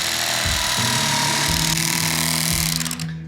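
An electric fillet knife cutting crappie buzzes continuously at close range, its motor pitch dipping and shifting as it works, then winding down at the end.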